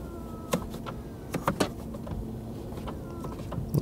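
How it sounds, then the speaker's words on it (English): A Mercedes G350d's electric steering column motor whirs softly in short bursts as the wheel is adjusted for reach and height, with faint clicks over a steady low cabin hum. "The steering wheel, you adjust it electrically here"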